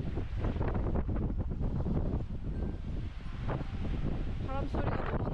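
Wind gusts roar across the microphone at a seaside in Jeju, a constant rough buffeting that fills the clip, with voices talking faintly beneath it.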